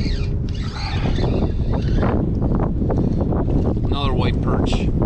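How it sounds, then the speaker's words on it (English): Strong wind buffeting a microphone on a fishing boat out on open water, a loud continuous roaring rumble with a person talking over it. "that wind's picking up"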